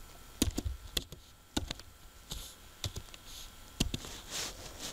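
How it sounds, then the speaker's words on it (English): Computer keyboard keys tapped in short irregular bursts while entering tasks into an Excel timesheet, with sparse crisp clicks separated by pauses, close and fairly faint. "So let's type in tasks here."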